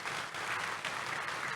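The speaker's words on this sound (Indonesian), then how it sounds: "kasih tepuk tangan untuk Tuhan Yesus." Church congregation clapping during a Sunday service, a brief burst of steady, fairly faint applause with no voices over it.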